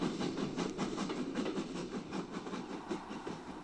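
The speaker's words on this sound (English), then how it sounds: "this train steams towards Fairford a month or so before the line closed to passengers." A steam train runs along the Oxford, Witney & Fairford branch line toward Fairford, with faint, steady rhythmic chuffing and rolling wheel noise heard from some distance.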